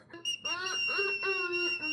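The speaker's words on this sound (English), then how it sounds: "My daughter just brought me a whistle." A small whistle blown close by in a few sustained, shrill blasts with a slightly wavering pitch.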